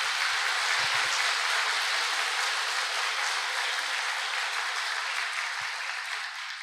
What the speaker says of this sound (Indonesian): kita kasih tepuk tangan yang paling meriah untuk upline-upline kita semua